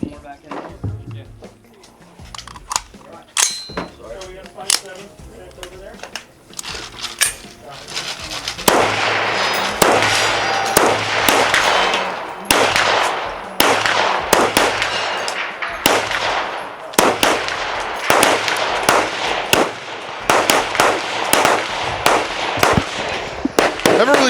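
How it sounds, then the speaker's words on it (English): A CMMG Resolute rifle chambered in 350 Legend fires a long series of sharp, loud shots at an outdoor range, irregularly spaced with ringing metallic echoes, and voices talk between bursts. "Never really shot 350 Legend before, but it's a very forgiving platform, man."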